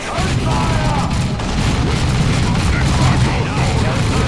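Rapid gunfire and booming blasts in the Dawn of War II strategy game, a dense continuous barrage of shots and explosions filling the whole stretch, loud and close.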